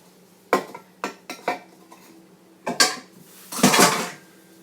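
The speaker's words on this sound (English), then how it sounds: "Use my knife and scrape out the tiny bit" Metal knife scraping and knocking against a bowl while clearing out the last flour, a handful of sharp clinks and scrapes in quick bursts, close and alone.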